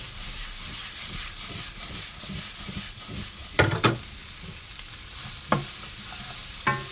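Korean fish cakes (eomuk), rinsed in warm water, drained and cut, stir-fry over very high heat in a pan, a steady sizzle broken by several sharp scraping stirs and clacks of a utensil, no voices.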